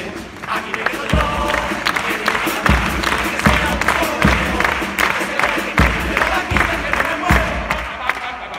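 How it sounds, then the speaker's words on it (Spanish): Audience at a live Spanish comedy show bursts into sustained applause and cheering, loud and dense, with rhythmic clapping swelling in waves throughout and a few voices calling out. "Que están aplaudiendo."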